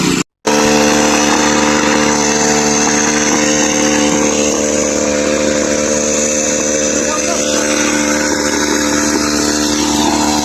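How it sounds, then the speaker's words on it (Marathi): A farm water pump runs continuously, a loud, steady engine drone with a buzzing, even hum that does not change throughout. "पंप चालू आहे"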